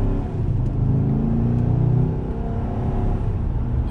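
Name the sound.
Chevrolet Silverado 2500 HD pickup truck accelerating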